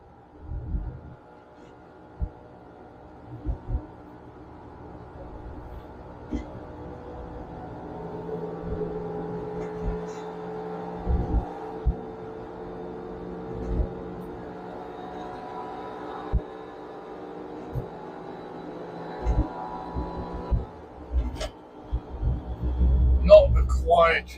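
A 1982 VW Vanagon rolls along at 50 km/h, its low engine and road drone humming steadily inside the cabin. Irregular thumps and bumps break in, and faint voices sit low in the mix.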